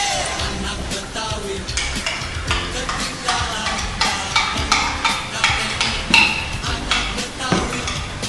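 A spoon stirs hot coffee with sugar in a glass, a steady clinking and swirling that runs throughout against a busy, cluttered background.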